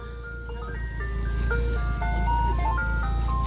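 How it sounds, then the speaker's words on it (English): Ice cream truck chiming its tinny melody, a steady looping tune of clear electronic notes over a low engine hum, close and fairly loud throughout. "Ice cream truck."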